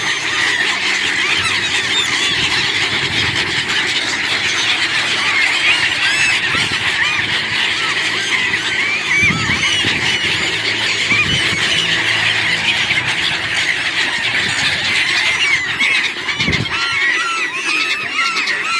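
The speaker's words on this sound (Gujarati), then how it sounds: "હા જોવા કેટલા બધા પક્ષી આવ્યા છે" A loud, dense flock of thousands of seagulls at Gomti Ghat honking and squealing continuously, many calls overlapping without pause.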